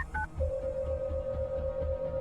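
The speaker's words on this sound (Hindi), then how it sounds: "तुरंत डॉक्टर को कॉल करता है" A phone number is dialed on a telephone, with a few quick tone beeps followed by a steady held tone, over a low rhythmic background hum.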